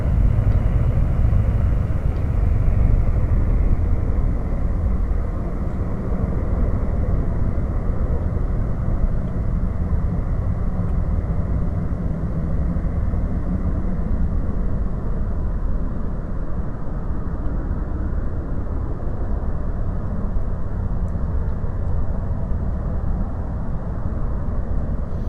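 A steady, loud droning engine roar from an airplane flying in Kerbal Space Program holds constant for the whole stretch with no talking, only a slight shift in tone early on.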